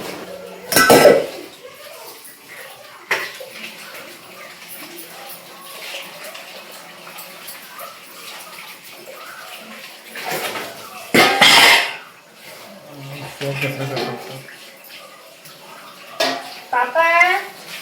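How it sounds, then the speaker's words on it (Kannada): Dishes are washed by hand at a sink: running water, scattered clinks and clatters of pots and utensils, with a few louder knocks and occasional voices in between. "ಇವಾಗ ಪಾತ್ರೆ ತೊಳಿತಾ ಇದ್ದೆ"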